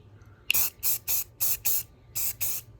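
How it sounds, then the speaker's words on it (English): Short bursts of brake cleaner aerosol spraying through a detached nozzle tip hiss close up, seven quick squirts in an uneven rhythm with brief silences between them. "Take the tip off, spray through it, and then spray down in the hole on the can."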